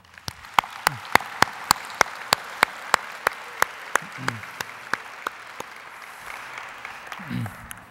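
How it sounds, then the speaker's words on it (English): An audience at an opening ceremony gives a steady round of applause, with sharp, evenly spaced loud claps from a few hands near the microphone standing out over the wider clapping of the crowd, while a voice murmurs briefly underneath. "join me in a round of applause for them"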